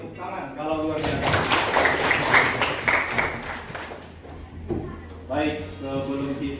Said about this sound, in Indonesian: Oke, tepuk tangan kalau luar biasa.